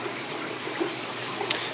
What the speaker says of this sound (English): I try to keep these waters moving as much as possible